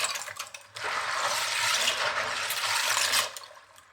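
LEGO minifigures swished by hand in soapy water inside a salad spinner, a steady sloshing and rattling wash of water that starts suddenly and fades after about three seconds, with no talking.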